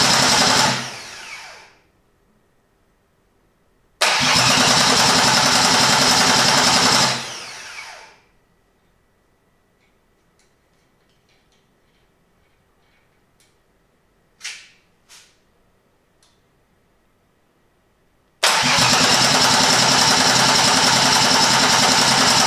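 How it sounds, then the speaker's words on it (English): A rebuilt Mercedes M104 engine cranks on a new starter motor in loud, close bursts of several seconds each, with long quiet gaps and a few brief clicks in between. "I've also installed the front crank pulley and the new version starter motor"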